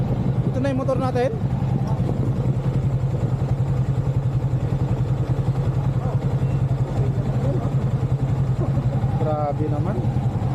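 Motorcycle engine idling steadily at a campsite, a constant low drone running throughout with people talking briefly over it near the start and end.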